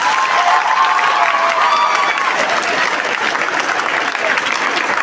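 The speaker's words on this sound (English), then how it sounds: "Very good, big round of applause." A big round of applause rises from a large audience at a motivational talk, loud, dense and continuous clapping with a faint murmur of voices beneath it.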